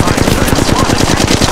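Rapid automatic gunfire in the mobile shooter Apex Legends Mobile, a dense, loud, continuous stream of shots without pause.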